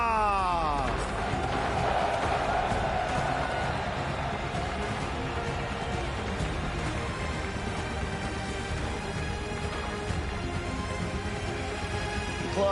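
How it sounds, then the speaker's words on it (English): A large esports arena crowd roars and cheers continuously as two Rocket League teams walk out to take the stage at a world championship, a dense, loud wall of voices with music and announcing mixed in. "Club and Dignitas walking, getting ready to take the stage as this crowd has erupted when seeing them come out"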